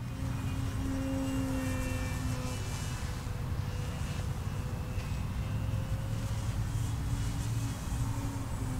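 An E-flite Extra 300 RC airplane flies overhead during aerobatic 3D flying, its electric motor a steady droning whine with slowly shifting pitch, heard continuously against broadband wind and background noise.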